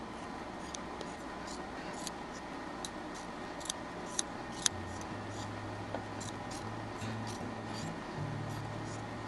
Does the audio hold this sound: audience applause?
no